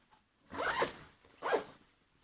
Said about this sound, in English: it's got a double zipper as well